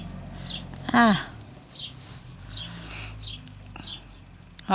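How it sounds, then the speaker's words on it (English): A small bird chirps outdoors in short, scattered high peeps, fairly faint against quiet background, with a few louder isolated calls near the start and end. "Oh, little bird, really."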